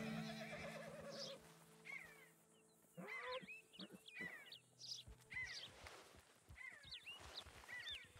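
Several sharp horse whinnies ring out over a steady low hum in Red Dead Redemption 2, repeating every second or two with hoof sounds mixed in.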